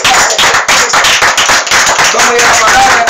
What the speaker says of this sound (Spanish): Puede dar un fuerte aplauso a nuestro Señor Jesucristo.